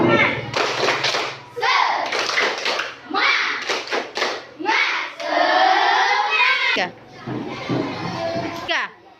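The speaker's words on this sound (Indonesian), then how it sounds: "Tepuk semangat." Schoolchildren in an Indonesian classroom perform a rhythmic spirit clapping chant, sharp bursts of group claps mixed with loud children's voices chanting along, close and energetic throughout.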